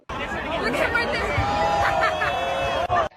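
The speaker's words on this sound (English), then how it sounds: "clearly this was an out-of-control crowd" An out-of-control crowd chases after a vehicle, filling the scene with loud, dense babble and overlapping shouts close by that carry on without a break.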